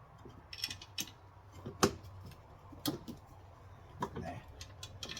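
Two spanners working a tight 14mm bolt on a Suzuki Jimny starter motor, giving a few sharp metallic clicks and clanks spread apart at close range, with soft speech in the background.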